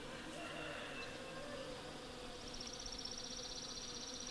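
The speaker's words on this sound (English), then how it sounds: "Can you hear all the bees up there?" A soft, continuous buzzing hum of many honeybees overhead in an ornamental crabapple tree, steady and somewhat distant, with no talking.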